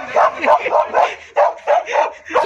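A dog barks in rapid, close bursts, roughly eight loud woofs in quick succession, some running together with a yelping edge.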